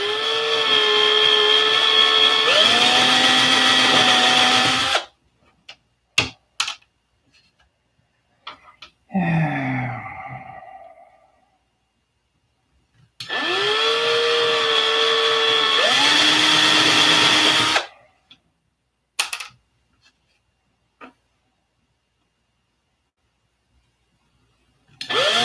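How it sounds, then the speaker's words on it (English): A power sander runs in two loud, steady bursts of about five seconds each, whining with a pitch that shifts as it changes speed. Between them are silent gaps with a few clicks and a brief rustle. "There's that sander."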